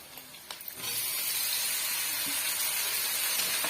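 Two medium-sized chopped tomatoes drop into a hot pan, setting off a sudden loud, steady sizzle and hiss that holds for several seconds after a few soft clinks.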